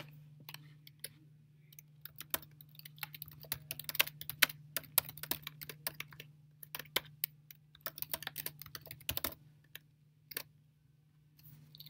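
Python code is typed on a computer keyboard. A rapid, irregular stream of close, crisp key clicks runs for several seconds over a low steady hum, with brief pauses between bursts, and then it goes quiet.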